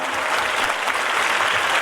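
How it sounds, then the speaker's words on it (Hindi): Audience applause fills the space in a dense, continuous wash of clapping at an event honouring a world champion, fairly loud and even throughout. "होनी चाहिए जोरदार तालियां"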